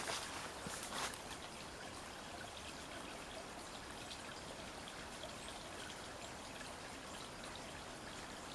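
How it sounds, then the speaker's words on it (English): Water runs and trickles steadily at the Goddess Well. It makes a soft, continuous babble with faint splashes, heard alone and fairly quiet. "Hear the water running."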